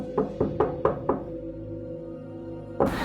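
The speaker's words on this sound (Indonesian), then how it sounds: "dia mendengar ada yang ketok-ketok jendela di dekat TV-nya" Five sharp knocks on a window near a television, evenly spaced at a steady rhythm, close and fairly loud over a low hum, followed by a brief louder noise at the end.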